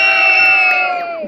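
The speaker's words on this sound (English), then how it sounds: "give it a cheer now" A live audience at an Edinburgh Fringe 2018 juggling show cheers loudly for about a second, with a sustained crowd shout that fades near the end.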